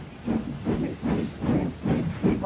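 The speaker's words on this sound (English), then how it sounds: "Henry puffed sadly into the docks" Henry the steam engine puffing along into the docks, a steady rhythm of loud hissing chuffs, about six evenly spaced puffs close by.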